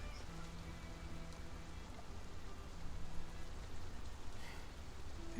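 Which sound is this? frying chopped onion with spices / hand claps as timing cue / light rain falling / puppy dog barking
light rain falling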